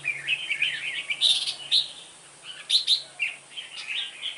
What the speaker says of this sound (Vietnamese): Đây là clip mình quay nó đấu với chim trời nhé